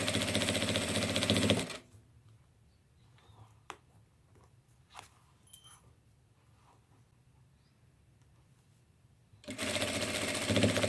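A sewing machine stitches a patchwork notebook cover in short, quiet bursts, faint and intermittent over a low background hum, bracketed at both ends by loud broadband noise.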